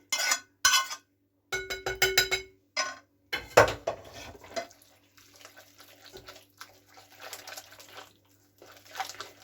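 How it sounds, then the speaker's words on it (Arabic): Quiche filling with vegetables being mixed in a bowl, heard as a run of clinking utensil knocks and scraping strokes against the bowl, close and fairly loud at first, then softer scattered stirring sounds. "غادي نخلط كلشي مزيان"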